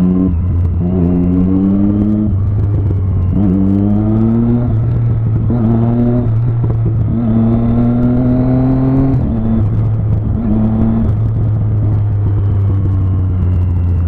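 A car creeps through stopped traffic in first gear, its engine rumbling steadily and revving up in repeated short rising pulls, close and loud with no talk.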